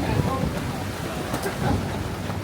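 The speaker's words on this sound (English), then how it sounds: "Riding out the storm." Storm at sea heard from aboard a boat: steady rain and wind noise with a low rumble throughout, close and continuous, with a faint voice in the background.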